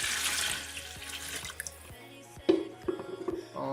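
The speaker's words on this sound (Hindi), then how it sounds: "तो इसलिए हम ऐड कर रहे हैं अभी पानी" Water splashes into a pot for chicken pulao, a fairly loud gush at the start that gives way to intermittent pours, clinks and bursts of splashing against a low steady hum.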